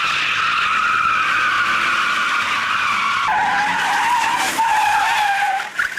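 Car tires skidding and squealing through a corner, a loud, sustained screech lasting several seconds with a shift in pitch partway through, close and continuous before cutting off at the end.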